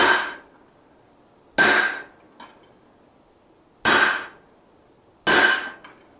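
Four sharp, ringing hammer blows on hot steel: a set down is forged in front of the eye of a small ball peen hammer with a guillotine tool. The blows are spaced unevenly and each fades quickly into quiet.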